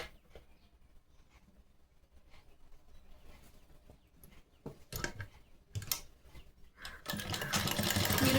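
A sewing machine stitches a ladies' blouse, running in short bursts that build to a loud, steady whir near the end, close by with no talking.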